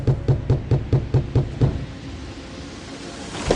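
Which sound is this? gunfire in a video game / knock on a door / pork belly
knock on a door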